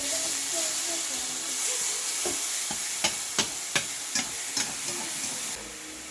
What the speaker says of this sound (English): My pan's hot, so I'm going to get my turkey going in here.